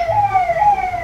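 An ambulance siren wails loudly and close as it passes by on the road, a rising and falling electronic tone over traffic noise.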